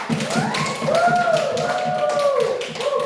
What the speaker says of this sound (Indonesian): tepuk tangan sekali lagi dulu dong